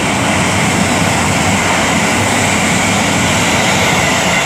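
Avanti West Coast Euston to Liverpool Lime Street train on the West Coast Main Line at Rugby, passing as a loud, steady, broadband roar that holds throughout without pause or voices.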